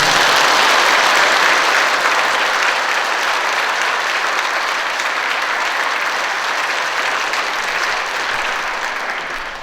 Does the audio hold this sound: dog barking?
no